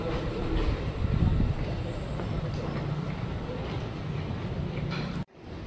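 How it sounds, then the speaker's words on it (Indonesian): A 12-car CRS 2518 commuter electric train passes nearby heading to Depok depot, a steady broadband roar with rail noise that holds for several seconds before cutting off abruptly near the end. "CRS 2518 rangkaiannya 12 kereta pulang ke Dipo Depok"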